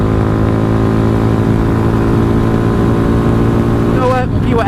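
A Dayun DF250RTS motorcycle runs in third gear, its engine drone loud, close and steady, rich in harmonics throughout, with a brief shift in pitch near the end.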